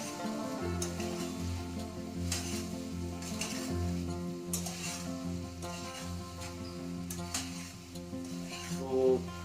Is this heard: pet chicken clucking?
no